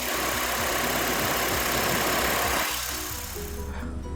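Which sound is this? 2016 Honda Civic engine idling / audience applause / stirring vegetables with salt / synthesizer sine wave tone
2016 Honda Civic engine idling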